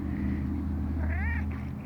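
A cat meows loudly and close by in a rising, wavering call over a steady low engine-like hum, near a 2009 Maserati Quattroporte S.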